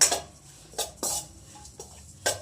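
Vegetables frying in a pan for an oats breakfast, heard as a few separate clanks and scrapes of a spatula against the pan, spaced irregularly, with only a faint sizzle underneath and no voices.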